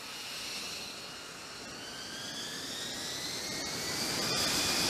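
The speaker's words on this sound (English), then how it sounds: "the F-35B accelerates rapidly along the ramp" Jet engine roar of an F-35B fighter accelerating up an aircraft carrier's takeoff ramp, a steady loud broadband rush with rising whining tones that swell louder toward the end, no voices.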